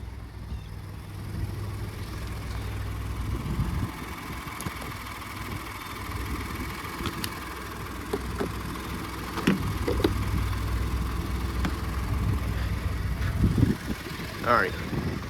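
A salvage-titled, totaled pickup truck idles steadily with a low, constant engine rumble and faint rattles, heard close up throughout.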